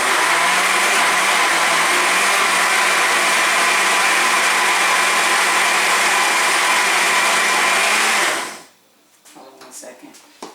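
A kitchen blender on the chop setting mixing a milkshake roars loudly and steadily for about eight seconds, then cuts off abruptly, leaving quiet room noise and faint handling sounds.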